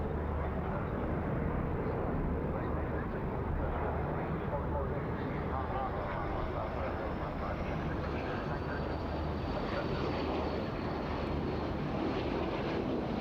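A French Navy jet trainer and VIP transport from Landivisiau flies at an air show, a broad steady roar of jet engine noise running unbroken throughout with a slight rise in pitch late on.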